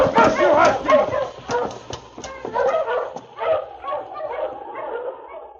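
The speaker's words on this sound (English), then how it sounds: "Dog team stopping out front, Frank." A team of sled huskies in the Yukon barks and yips in a radio drama, with repeated sharp barks and whimpers in quick bursts, close and lively, while voices talk in between.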